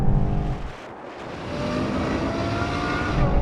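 A BMW M8, a Nissan GT-R and a Ferrari V12 drag racing, loud roaring engines at full throttle with a deep broad rumble that dips briefly and then swells again, sustained and close.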